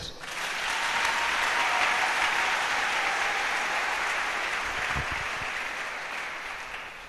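A church congregation at a service led by a pastor breaks into loud, sustained applause that swells quickly and continues steadily for several seconds before slowly easing, with no clear voices above the clapping.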